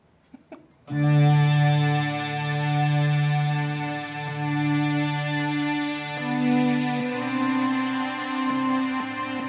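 A sustained, heavily processed synth tone from a Meris Enzo X synth pedal, with rich harmonics and distortion, drones for several seconds, its pitch shifting midway, after a few soft clicks.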